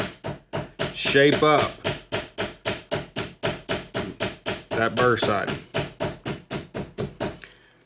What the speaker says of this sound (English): Now we'll take our ball peen hammer, just our nice little ball peen hammer, and just really lightly